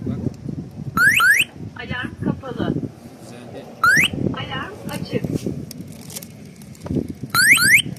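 A motorcycle's chirping electronic alarm repeats in short rising bursts three times, with people talking and shuffling around between the bursts.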